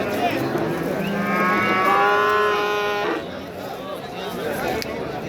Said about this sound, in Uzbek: Katta sigirlar.